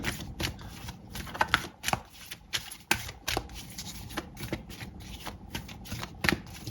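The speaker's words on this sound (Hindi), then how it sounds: "तो 4 कार्ड लेंगे हम यहाँ से" Tarot cards for a zodiac reading being shuffled, handled and drawn, a close run of rapid flicks, slaps and riffles in an uneven rhythm, with no talking.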